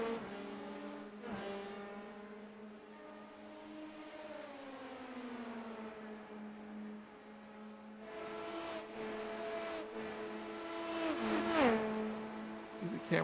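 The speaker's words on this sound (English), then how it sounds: "cars drive past. That's just how fast they're going. You'll see how loud they are." Race cars roar past in a racing video game at the Daytona endurance round, engines droning and sweeping in pitch as they pass. The sound grows louder toward the end with a sharp rising whine.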